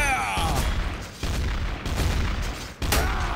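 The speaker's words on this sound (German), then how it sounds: "Explosionen!" Repeated booming explosions in the video game Trouble in Terrorist Town burst at irregular intervals, with heavy low rumble and sharp crackling tails, under a noisy continuous background.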